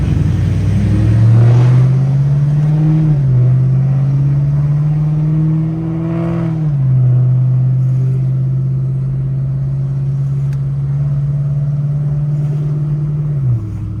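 Cammed Ford Mustang engine with automatic transmission droning loudly and steadily while driving, a deep low rumble with a couple of gear-shift dips and rises, close and continuous with no talk.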